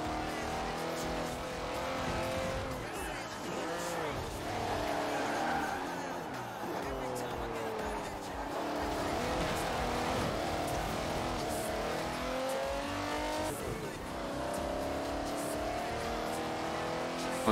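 A race car engine in Forza Horizon 4 revs and shifts continuously, with rising and falling pitch sweeps at each gear change and a steady, close, loud drone throughout the race.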